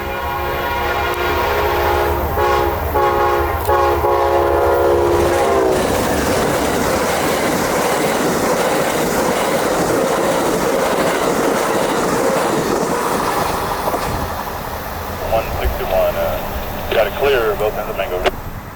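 An Amtrak locomotive passes with its horn sounding in long tonal blasts for the first several seconds, then a loud, close rumble and rhythmic wheel clatter take over, with a fainter horn near the end and a voice talking over it.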